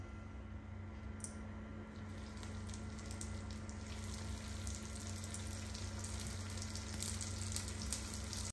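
Almond briouettes fry in hot oil, a steady close sizzle and bubbling hiss that holds at an even level without a break and with no voices over it.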